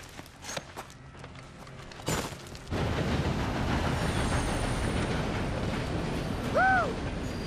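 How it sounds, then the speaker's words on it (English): A train in the video game Red Dead Redemption 2 roars past, a loud continuous rumble and clatter from midway on. A brief whistle-like tone sounds near the end, and a few thuds and footsteps come before it. "For a moment, I thought you were gonna let that train ride right over us."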